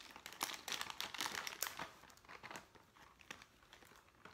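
A card is placed into an Easter basket, giving faint, close crinkling of plastic filler or wrapping in irregular rustling bursts that fade toward the end.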